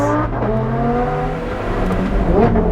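An Alfa Romeo 4C engine revs hard while driving through Monaco, a loud, steady, close-up engine roar with rising and shifting tones and no talk.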